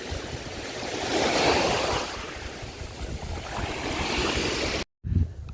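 Ocean waves on a Gulf Coast beach, a continuous washing roar that swells and recedes with some wind buffeting the microphone before a brief dropout.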